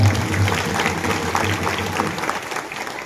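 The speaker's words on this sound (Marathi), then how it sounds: "त्यांच्यासाठी सगळ्यांनी मोकळ्या हाताने टाळी वाजवा" An audience claps at a village kirtan during an Akhand Harinam Saptah, a dense, continuous patter of many hands under faint crowd murmur, fading slightly toward the end.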